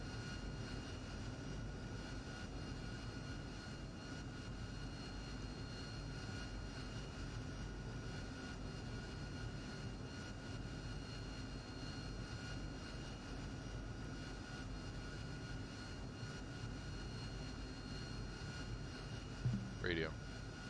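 An AV-8B Harrier jet engine hums and whines steadily on the ground before takeoff in a flight simulator, a constant droning tone throughout, with a person talking over it.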